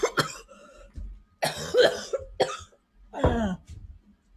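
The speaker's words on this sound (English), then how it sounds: "I'm coughing with you, but you cough too." People coughing in a close group, several loud harsh coughs in bursts separated by short pauses, with some throat clearing.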